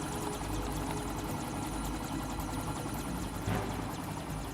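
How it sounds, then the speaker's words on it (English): A helicopter in Metal Gear Solid 2 on PS2 gives a steady, low-level whirring drone with a faint rhythmic rotor chop, continuous and without talk. "Watch the helicopter."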